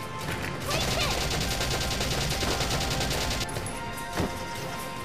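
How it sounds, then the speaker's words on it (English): Close-range gunfire in Valkyria Chronicles, a rapid burst of repeated shots roughly one to three and a half seconds in, loud and dense over steady game background, with a sharper crack near the end. "And we'll start opening fire here at close range."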